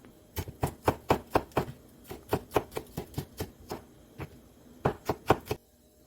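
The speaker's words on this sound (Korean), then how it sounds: "청양고추 한 개는 십자로 잘라서 종종 썰게 해주겠습니다" A knife finely chops a Cheongyang chili pepper on a board: a quick run of crisp, close taps in an even rhythm, a brief pause, then a few more cuts.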